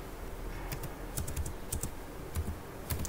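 Computer keyboard keys being typed while entering code for an Android app, a quick irregular run of crisp close clicks over a faint steady background hiss, no voices.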